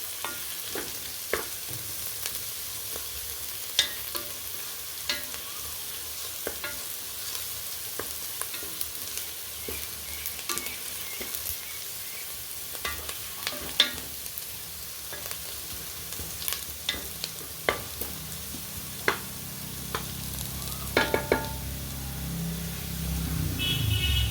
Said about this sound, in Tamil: இப்படி நல்லா கிண்டிக்கினே இருக்கணும். அப்போ தான் வந்து தீயாமல் நல்லா பொன்னிறமாக வரும் வெங்காயம்.